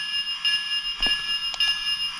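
Lionel Percy Bluetooth toy train engine rings its electronic bell, a few quick metallic dings over a steady high tone.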